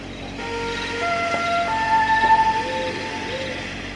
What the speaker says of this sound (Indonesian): Ini benar-benar suara kayak sirine-sirine gitu di dalam hutan.